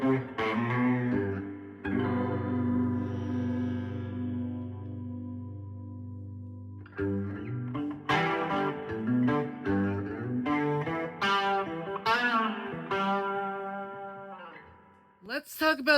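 An electric guitar plays sustained chords and single notes through the shimmering chorus effect of a Roland Jazz Chorus amp, with pauses between phrases and no voices.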